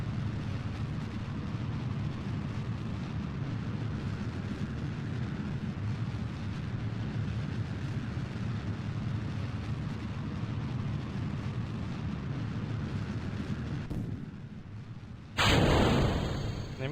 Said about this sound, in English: Oh, things are exploding on the ground.